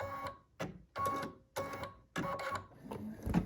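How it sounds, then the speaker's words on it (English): A Brother Essence VM5200 embroidery machine stitches a tea towel in short mechanical bursts of rapid whirring and clatter, separated by brief pauses, close and moderately quiet. "You can see how quiet the machine is."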